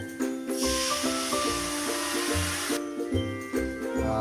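A spice mix tipped into a hot pan bursts into a loud, rushing hiss that lasts about two seconds, then eases into quieter sizzling broken by clinks and scrapes of stirring.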